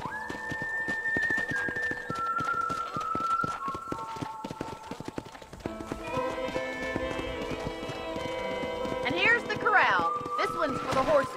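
Horse hooves clip-clopping at a steady pace in the video game Red Dead Redemption, close and rhythmic beneath game music and characters talking.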